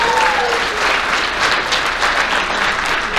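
Audience applause at a high school athletic banquet, a steady dense patter of many hands clapping, with a faint voice briefly audible at the start.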